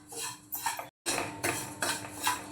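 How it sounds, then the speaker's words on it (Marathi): Semolina roasting in ghee while being stirred: repeated scraping and clinking of a metal spoon against the pan in short rhythmic strokes, with a brief break in the middle. "दोन 3 मिनटं आपल्याला रवा तुपामध्ये छान परतवून घ्यायचा आहे."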